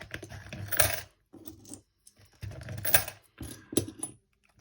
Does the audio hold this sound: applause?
no